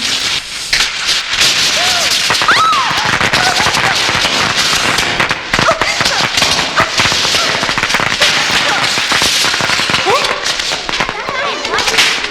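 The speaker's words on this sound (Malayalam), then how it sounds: "പ്രിൻസ്, ആരാടാ എന്റെ മുറി പടക്കം പൊട്ടിച്ചത്?" Dense, rapid bursts of firecrackers crackle and pop continuously, loud and close, with occasional whistling streaks and voices mixed in the din.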